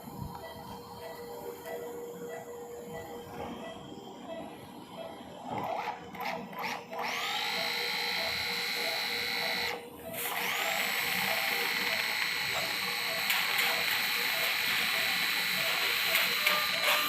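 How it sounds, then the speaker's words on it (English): A surgical power drill fitted with a 2.8 mm bit bores into the humerus of a dog during fracture repair, giving a steady high mechanical whine with a brief stop and restart, close and sustained. "So what I'll do is I'll drill my initial hole."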